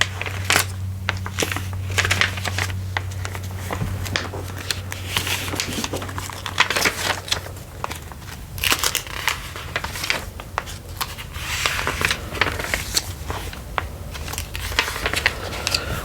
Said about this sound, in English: we could just go ahead and do some page turning right quick